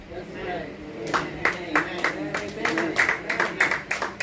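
A church congregation claps during a sermon, a run of uneven, close hand claps building in density, with a preacher's voice and room murmur underneath.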